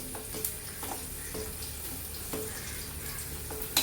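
Chopped onions and chilies fry in a pan for roadside-style Kerala kappa and beef, a soft steady sizzle broken by a few sharp scraping stirs of a spatula, fairly quiet and with no voices.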